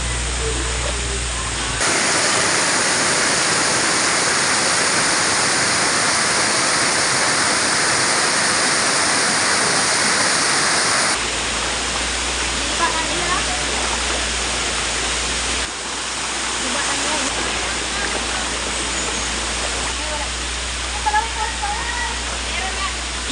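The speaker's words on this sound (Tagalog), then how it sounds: "Ah, ilog pala, ilog." River water rushing loudly and continuously, a dense broadband roar that fills the whole stretch, with a few faint voices underneath.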